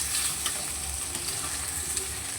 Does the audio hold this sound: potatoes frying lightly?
yes